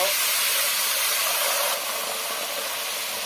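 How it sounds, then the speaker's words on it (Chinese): Two cans of beer pour into a hot wok of stir-fried spices, ginger slices and onion, setting off a loud, steady hissing sizzle that eases slightly partway through, with a voice faintly underneath. "这时候往里面加入2罐啤酒"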